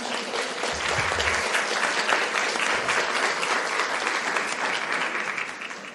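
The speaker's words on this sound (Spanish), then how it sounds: "Recibamos con un fuerte aplauso a la doctora Miriam de León" An audience at a nutrition and disease conference breaks into steady, full applause welcoming a doctor to the stage, dense clapping sustained for the whole stretch with no voices over it.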